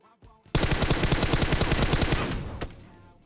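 Gunfire aimed at a vehicle in PUBG Mobile: after a couple of faint opening sounds, a loud sustained automatic burst of rapid close shots runs for about two seconds, then cuts off with one final shot.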